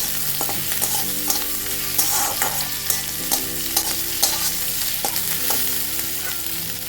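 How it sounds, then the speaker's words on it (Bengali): Onions frying in a pan for prawn malai curry with a steady sizzle, broken by repeated scrapes and clinks of a spatula stirring, close and continuous with no talking. "পেঁয়াজটা মোটামুটি ভাজা হয়ে গেলে, ভাজা হোক, আমার পেঁয়াজ ভাজা হয়ে গেছে"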